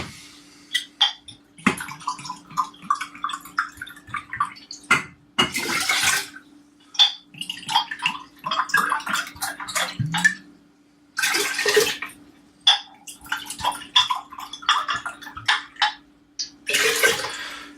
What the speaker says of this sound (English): Just simply gonna pour my grains in there and top it up with some water.